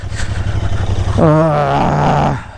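A motorcycle climbs a rough mountain road in Mustang, Nepal, its engine droning low and steady before a louder, tonal revving surge as it pulls uphill, then dropping back.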